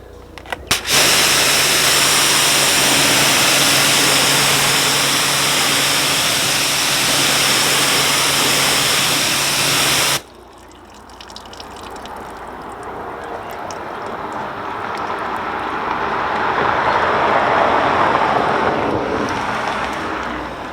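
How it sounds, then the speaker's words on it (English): Loud, steady spraying water hisses against a BMW M4 paint-protected panel for about ten seconds, then cuts off abruptly, leaving a softer, uneven wash of water and rustling. "we'll spray it on and see the water behaviour, then flood the panel"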